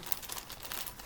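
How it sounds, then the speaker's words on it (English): Plastic pouch holding wool spun yarn crinkles and rustles continuously at close range, a soft steady crackle with no talk. "sorry for the crinkling"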